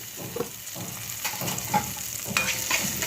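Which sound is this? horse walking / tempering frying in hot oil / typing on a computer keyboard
tempering frying in hot oil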